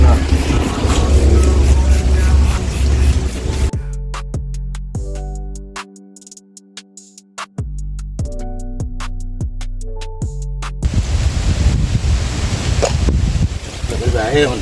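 Heavy wind roars and buffets outdoors beside a 2015 Jaguar being cleaned with degreaser and wheel cleaner. Loud, steady gusting fills the start and end, and a booming car stereo with thudding bass plays through the quieter middle.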